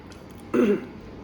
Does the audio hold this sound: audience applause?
no